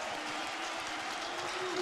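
A massive crowd roaring and applauding at the Roubaix velodrome as race leaders enter the track, a steady dense wash of cheering with no breaks.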